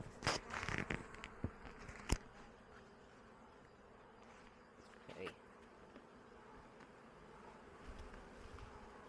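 Honey bees at a hive feeding on sugar paste make a constant soft, close buzzing hum, with a few sharp handling clicks and taps early on.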